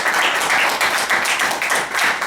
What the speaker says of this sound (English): I would like to give a round of applause to Bell Jams for this.